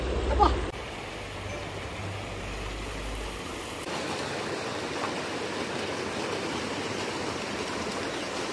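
A small creek flows in a continuous soft, hissing rush of water that holds steady throughout, with a brief bump of handling noise near the start.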